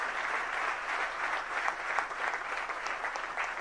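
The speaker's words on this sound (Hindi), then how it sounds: "जरा तालियां तो बजा दो भाई साहब" An audience at a religious gathering applauds, a steady wash of many hands clapping at a moderate distance, sustained and even throughout with no voices on top.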